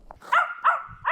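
A puppy gives three short, high yapping barks in quick succession, close and clear.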